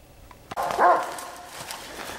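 A hunting dog, a bluetick coonhound out on a night coon hunt, gives a sharp bark followed by a short burst of whimpering and yipping, close by and fairly loud over an outdoor background.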